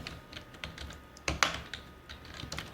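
Keys clatter softly as C++ code is typed on a computer keyboard, an irregular run of light clicks with one sharper cluster midway, close and fairly quiet with no speech.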